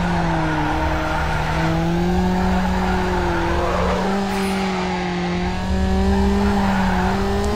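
Need for Speed Underground car drifting, a long continuous tire squeal with steady tonal whine held over a droning engine, loud and close with no talk.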